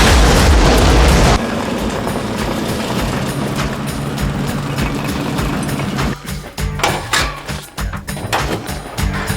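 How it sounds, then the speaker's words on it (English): A loud blast from a rigged car in a simulated motion picture explosion bursts out, then a sustained rumbling roar with crackling bursts trailing off. "we're getting ready to rig this car for an explosion, simulated motion picture explosion"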